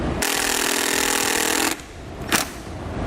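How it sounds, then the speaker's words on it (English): A power driver sinks a larger self-tapping screw into the bar of a Solera slide-out awning on a 2019 Jayco Greyhawk RV, with a loud steady whir for over a second that stops abruptly, then one short burst follows. "Now we're going to take our larger self-tapping screw. We're going to go through these 2 holes right into the bar."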